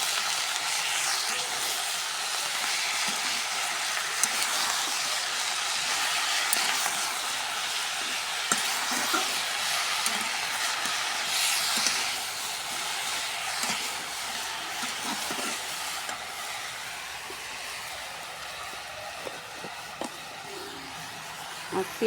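Broadband sizzle of a curry frying in mustard oil with salt and turmeric, with scattered soft scrapes and clicks from stirring in the pan, steady and close throughout.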